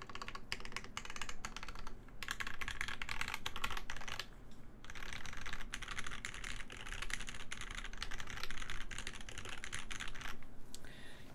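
Fast typing on a KBD8X MKII custom mechanical keyboard, a close, crisp run of key clacks with spacebar thocks, steady apart from two short pauses, with no voices.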